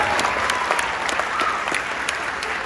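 A high school band crowd applauds a graduating senior with steady, dense clapping throughout. A few brighter individual claps stand out from the mass of hands.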